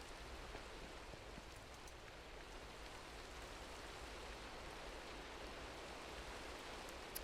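Steady Minecraft rain falls without pause, a dense even hiss of drops on surfaces that holds at a constant moderate level throughout, with no voices.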